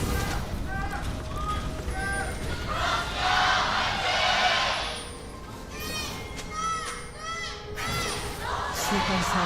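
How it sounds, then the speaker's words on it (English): Fans at an LCK 2025 League of Legends esports match cheer loudly in an extended crowd roar with shouts and whoops, while casters speak over it. "Some extra extended cheering there from the Noodle fans"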